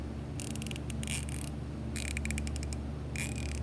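A rebuilt ratchet wrench, fitted with a gear wrench backing plate, gives three quick bursts of sharp, close, rapid clicking separated by short pauses.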